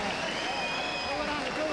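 A boxing arena crowd applauds Augie Sanchez after his fight against Naseem Hamed is stopped, a dense wash of clapping and crowd noise under a ring announcer's voice.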